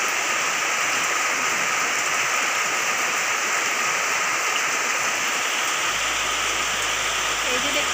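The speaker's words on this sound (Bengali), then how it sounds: "তো বন্ধুরা বৃষ্টিটা একটু কম হয়েছে," Rain easing off outdoors still makes a dense, unbroken hiss, loud and even from start to finish with no distinct drops standing out.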